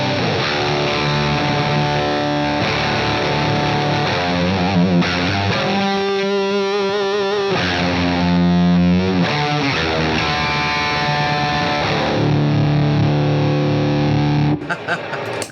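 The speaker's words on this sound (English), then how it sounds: "blends between, like normal distortion and like chainsaw distortion" Heavily distorted electric guitar in Swedish chainsaw distortion mode chugs and rings with a thick, buzzing fuzz, loud and continuous with brief pauses between riffs.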